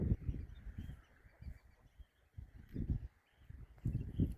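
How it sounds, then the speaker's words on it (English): Ducks and other waterfowl calling in short bursts in Iceland, a few honking quacks at a moderate distance against an open outdoor background. "There's some ducks."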